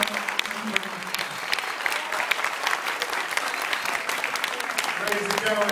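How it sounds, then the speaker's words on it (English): An audience applauds poet Amir Sulaiman, dense clapping loud and continuous, with a voice speaking briefly under it near the start and end. "give a round of applause for Amir Sulaiman"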